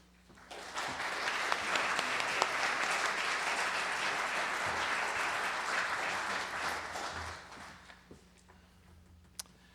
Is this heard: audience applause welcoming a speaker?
yes